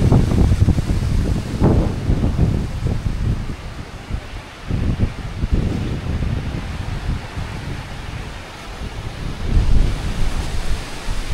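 Strong wind roars continuously on a rainy day on Boracay, surging and easing in loud gusts, with a surf-like rushing texture and no talking.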